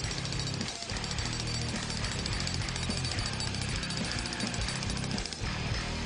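A DeWALT D25980K heavy-duty pavement breaker hammers continuously, a loud, dense, close pounding that carries through the whole stretch without speech.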